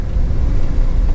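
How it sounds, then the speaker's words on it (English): A 1953 Dodge Coronet Red Ram Hemi engine gives a loud, steady low rumble from inside the moving car, with no clear gear change heard. "you'll feel it rev up, you'll let off the gas, and then it'll change gears for you"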